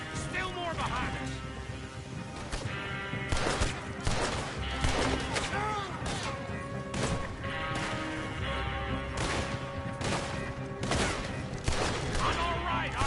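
Gunfire in the Red Dead Redemption video game, rapid repeated gunshots and crashes during a chase with dynamite, with shouting voices mixed in among the shots.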